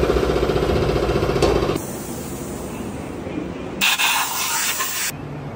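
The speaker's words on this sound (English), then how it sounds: "we have to put it in the parts washer, try to get as much metal as we can out of it, and then blow them dry" Compressed air blasts from a blow gun dry freshly washed engine parts out of a parts washer, a loud hissing spray in bursts broken by quieter gaps and a rattly mechanical hammering at the start.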